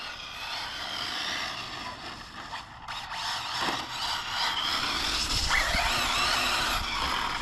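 An Arrma Felony 6S RC car drives on rough ground with a loud, continuous motor whine that rises and falls in pitch as it accelerates, close to the listener throughout.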